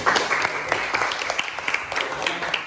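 Classroom applause for a student group, a patter of scattered claps at moderate level running throughout, with some crowd murmur underneath.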